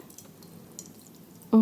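Ceramic glaze poured over a bowl in an art school ceramics workshop: faint, soft liquid trickling and dripping, then a sudden louder splash near the end.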